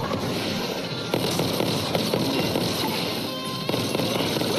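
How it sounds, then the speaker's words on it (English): Incoming rockets in the VR shooter Robo Recall: a continuous roaring, crackling barrage with scattered sharp pops and blasts, loud and sustained without pause. "Oh god, rockets."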